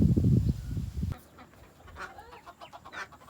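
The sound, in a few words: ducklings peeping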